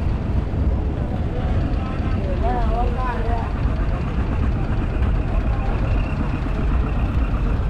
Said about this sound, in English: So that's a vehicle leaving this stage.